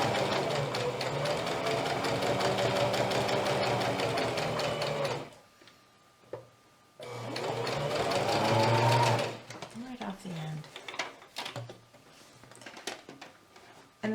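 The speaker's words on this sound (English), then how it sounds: "we'll start sewing again and backstitch again." A sewing machine stitches a double-sided placemat, running in two steady whirring bursts separated by a pause, followed by softer handling sounds as someone speaks throughout.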